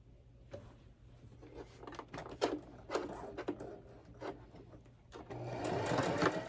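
A sewing machine stitches a fabric face mask in a steady run of bursts, close and clear, with a constant motor hum beneath and a louder, denser stretch near the end.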